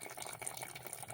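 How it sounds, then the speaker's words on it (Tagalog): Water is poured into a cooking pot for sweetened bananas, a short, steady splashing and gurgling stream at close range. "Lalagyan ko ng tubig na ilalagay ko para madaling kumulo."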